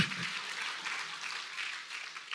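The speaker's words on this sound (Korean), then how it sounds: "박수 한번 주세요." A church congregation applauds steadily for a couple of seconds during a Sunday service, a dense patter of clapping heard from a moderate distance.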